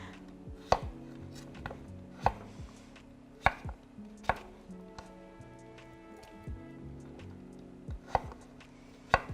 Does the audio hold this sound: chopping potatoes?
yes